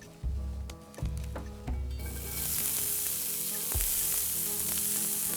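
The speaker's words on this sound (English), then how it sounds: "I just want to saute them." Vegetables sauté in oil in a non-stick pan: a few clunks of stirring come first, then a loud, steady, close sizzle fills the rest, with no voices.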